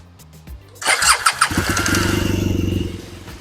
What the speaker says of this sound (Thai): เดี๋ยวมาฟังเสียงเครื่องยนต์กันนิดนึงนะครับ